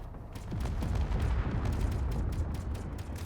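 Rapid volley of missiles launching from a ship in the space game Space Engineers, a dense rumbling barrage of repeated blasts that holds steady and loud throughout.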